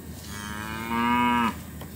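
A single cow on a farm lets out one clear, close moo that rises and swells in the middle of a two-second clip, over quiet outdoor background.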